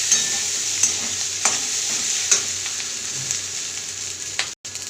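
Potato and fish roe curry simmers and sizzles gently in a pan while a spoon stirs it. A few light scrapes and taps come at intervals, and a brief cut drops out near the end.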